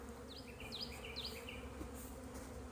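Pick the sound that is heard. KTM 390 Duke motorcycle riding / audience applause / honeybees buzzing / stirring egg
honeybees buzzing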